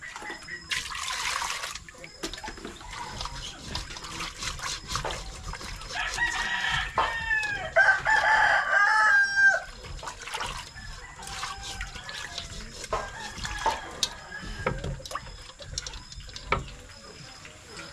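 Chickens clucking and a rooster crowing somewhere below, with ducks nearby, amid a trickle of water and light background talk; the crowing stands out mid-stretch before fading back to scattered clucks.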